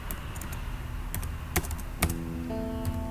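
Soft keystrokes on a computer keyboard while code is typed, a sparse run of light clicks with a few louder taps, close and quiet in a calm room.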